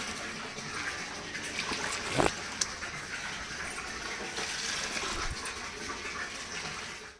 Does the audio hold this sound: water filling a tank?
yes